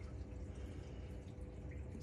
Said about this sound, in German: Das kleine Plätschern kommt von meinem Becken an sich.